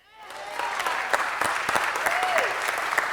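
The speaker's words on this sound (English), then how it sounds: "And now, warm round of applause for the head coach, Glenn Hammond." Audience applause fills a city council meeting chamber as a head coach is introduced, steady and fairly close clapping from a crowd that swells quickly and holds for several seconds with a faint voice briefly rising over it.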